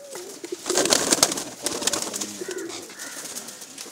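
Pigeons at a rooftop loft of high-flyer birds in a village, with soft cooing and fluttering calls repeating through a few seconds, moderately close amid light outdoor noise.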